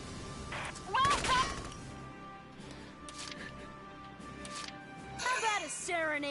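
Sporadic gunfire in the tactical game Valkyria Chronicles 4, a couple of sharp shot bursts with ringing tails separated by quieter stretches, heard beneath ongoing talk.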